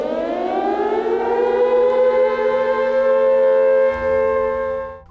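Air raid siren wails alone in a single long, loud, steady tone that rises slightly in pitch, then holds before trailing off at the end.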